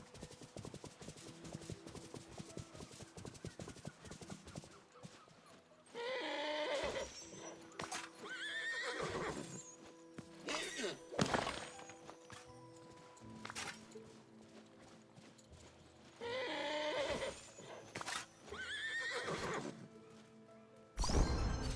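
A horse ridden in a video game gives several loud, shrill neighs and whinnies over quieter clip-clop hoofbeats, with the calls arriving in separate bursts and a sharp crash near the end.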